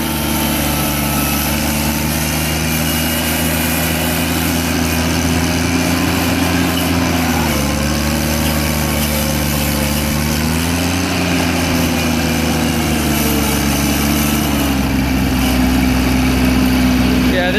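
A 1988 John Deere 322 garden tractor with a liquid-cooled engine runs steadily while driving over bumpy ground, a loud smooth hum whose pitch dips and rises slightly, with someone talking over it.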